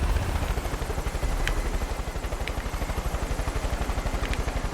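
A helicopter in the video game Far Cry 5 flies nearby with a loud, rapid rotor thump over a steady engine roar, and a few faint higher tones surface now and then.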